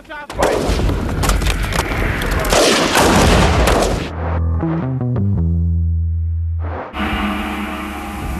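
Rifle gunfire from French troops training in Djibouti: about four seconds of loud, dense, continuous firing, then a steady droning tone with a few thumps, before broad noise returns.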